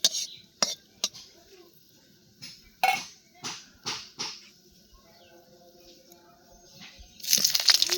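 Utensils clink and scrape against a pan as chopped onion goes in with eggplant and red-fried dried chili, a series of sharp metallic knocks and stirs, close by, then a brief rush of sizzle at the end.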